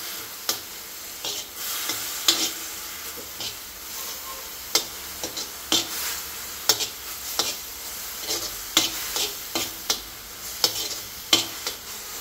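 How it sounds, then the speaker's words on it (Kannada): Food frying in ghee in a pan, with a bright, crackling sizzle and frequent sharp spatula taps and scrapes in an uneven rhythm. "ತುಪ್ಪ ಹಾಕಿ ಇದನ್ನು ಫ್ರೈ ಮಾಡಬೇಕು."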